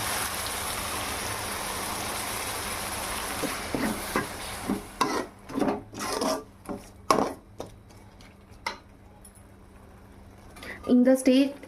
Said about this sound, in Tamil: கிளறி விட்டுட்டே இருங்க